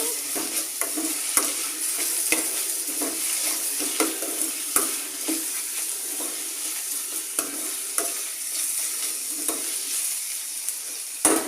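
Bottle gourd frying and being stirred with salt and chili in a pan: a steady hiss of sizzling oil with repeated scraping strokes and occasional light clicks, close and continuous, no voices.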